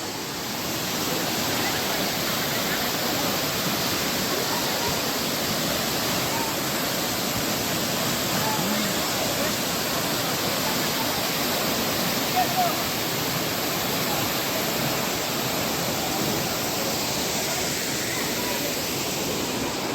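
Changey Waterfall in Kalimpong pours in a steady, broadband roar of rushing water that holds loud and unbroken from start to finish.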